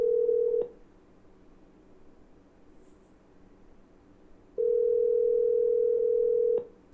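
A phone call placed through an Apple HomePod rings out as steady electronic ringback tones, one ending at the start and another long tone a few seconds later, clear and close over a quiet room, with no talking.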